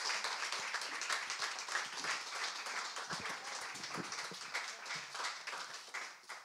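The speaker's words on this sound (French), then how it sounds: "Je pense qu'on peut vous applaudir très fort." Audience applause after a panel talk on artistic creation at the Mucem in Marseille, a dense, steady roar of clapping from a crowd, sustained for several seconds, fairly distant and without speech over it.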